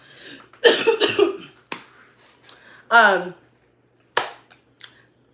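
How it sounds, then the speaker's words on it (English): Several sharp coughs, loud and close, in two quick bursts with a few quieter coughs trailing off and pauses between them. "And I got this cough."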